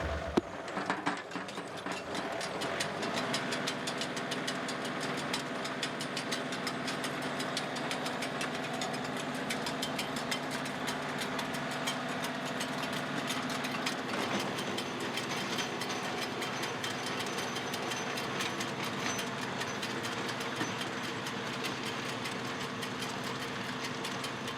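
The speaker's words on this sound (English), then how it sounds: "a PTO tiller like this, it doesn't really care if the ground's previously tilled or not" A John Deere 2038R compact tractor drives a PTO tiller through garden soil, making a steady, loud mechanical churn with engine drone and rattling gear noise that runs continuously without voices.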